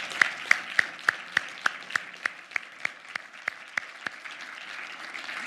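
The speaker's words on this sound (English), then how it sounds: "let's give another round of applause to all of the finalists and award winners this evening" Sparse, evenly spaced claps, roughly a dozen distinct hand strikes in a steady rhythm over a quiet room, offered to thesis competition finalists and award winners at an evening university event.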